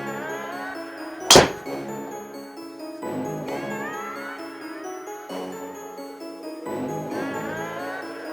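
A golf driver strikes a ball once with a sharp, loud metallic crack, followed by a quiet simulator-room hum with faint musical tones.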